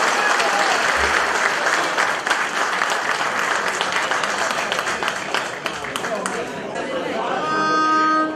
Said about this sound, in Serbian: jedan ogromni aplauz